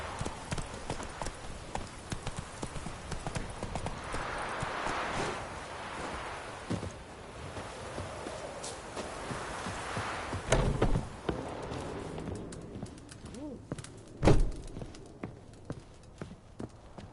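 Roach the horse galloping in The Witcher 3, quick rhythmic hooves thudding at moderate distance, with brief voices and a couple of sharper knocks near the end.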